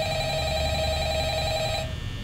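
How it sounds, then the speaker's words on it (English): A phone in the Five Nights at Freddy's video game rings with a steady electronic trill that holds for nearly two seconds and then cuts off, loud and alone over a low background hum. "Phone call."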